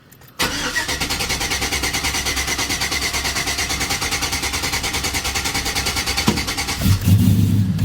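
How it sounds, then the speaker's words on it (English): A Chevrolet Silverado 5.3L V8 with a freshly swapped cam cranks with a rapid, steady chugging for several seconds, then catches and fires into a louder rough idle, close and alone. "So the way you do that is full throttle, and then just turn the key and hold the key forward."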